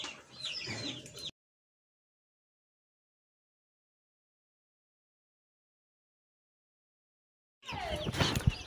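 Day-old chicks on a poultry farm brood kept at 32°C, a dense burst of high, rapid peeping and chirping at the start, then silence, then more busy chick chirps at the end.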